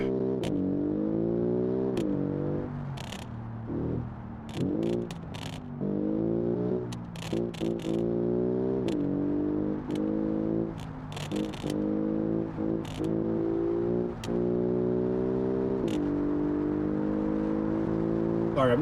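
Engine of an ultra-lightweight track day car lapping a circuit in BeamNG.drive: a high-revving motor climbing through the gears in repeated rising sweeps, with brief drops at each shift and ticking clicks, alone and continuous.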